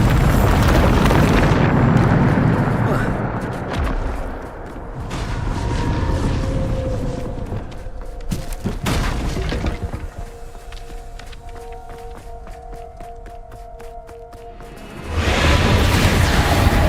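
A Bombarda spell detonates in the video game Hogwarts Legacy, giving loud booming blasts with whooshing bursts and rumbling debris, a quieter stretch with tonal game effects in the middle, then another heavy blast at the end.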